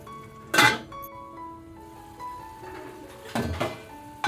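A metal lid set onto a cooking pan of gravy, giving two distinct clanks a few seconds apart with quiet kitchen background between them.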